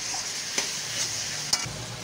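Prawn Manchurian being stirred in a frying pan, a steady sizzle with a few sharp scraping strokes of the spatula against the pan, close and alone.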